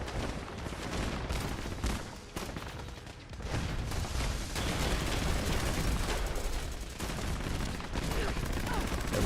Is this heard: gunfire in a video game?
yes